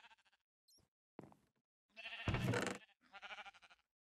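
Several Minecraft sheep bleats, short wavering calls with pauses between them, heard alone and fairly close. Cartoonish, game-like quality.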